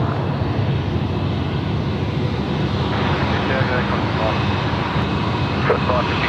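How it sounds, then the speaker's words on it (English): An Airbus A321 taxiing past at Sydney Airport gives a steady, loud broadband engine roar that holds constant throughout, with faint radio chatter mixed in underneath. "321 coming past us here, taxiway Charlie."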